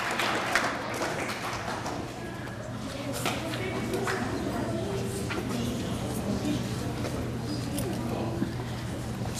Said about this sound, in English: Let's have Ms. Boffin's clap